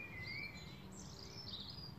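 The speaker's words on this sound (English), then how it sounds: "And I'm really hearing birds still singing, which is really, really beautiful." Birds sing outdoors on a sunny evening with a breeze picking up, thin high chirps and warbling phrases drifting through at a moderate distance over a soft steady wash of wind and ambient noise.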